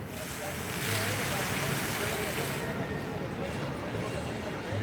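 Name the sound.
water fountains running at Universal Orlando theme park at night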